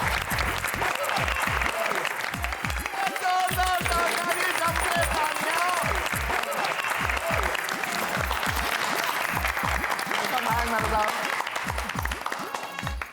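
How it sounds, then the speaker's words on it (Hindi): Loud applause for an award presentation at a college function, dense clapping mixed with a steady rhythmic thumping beat underneath, continuous for the whole stretch with voices faintly in the mix. "आपके इस उपलब्धि के लिए एक बार फिर से जोरदार ताली।"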